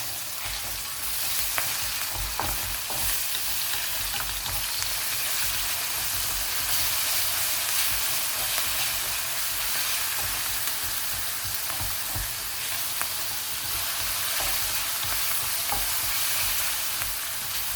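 Garlic and ginger paste sizzles loudly and steadily in a hot pan, while a spoon stirs it with regular scraping strokes throughout, no voices present.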